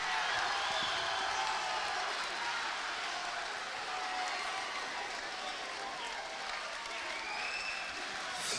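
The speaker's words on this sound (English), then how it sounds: "a round of applause for the brave and very talented Frankie Davey" A boxing arena crowd applauds steadily throughout, dense clapping mixed with background crowd noise, with no clear announcement heard.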